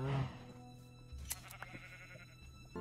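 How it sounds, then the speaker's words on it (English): A single short sheep bleat from Minecraft opens the clip, followed by quiet game ambience and faint clicks. "Oh, we got sheep."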